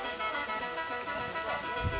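Steady rain falling outdoors during a mushroom-gathering trip in rural Thailand, a dense even patter on surfaces with a faint low rumble near the end.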